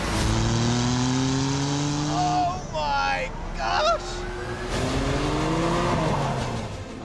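Jaguar XJ220 sports car accelerating hard, its engine note rising through the gears in loud, sustained sweeps, with a brief exclamation from a person partway through.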